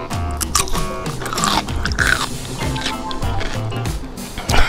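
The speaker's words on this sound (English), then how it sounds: "That's a great pickle. It is really, really crunchy." A crunchy spicy garlic dill pickle is bitten and chewed up close, giving loud wet crunches and squishy chewing that continue steadily throughout.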